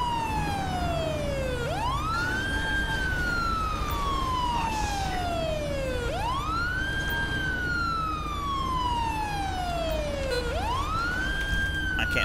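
A police car siren wails in slow rising and falling sweeps, three long cycles, loud and steady over a constant engine and road rumble in a GTA V patrol.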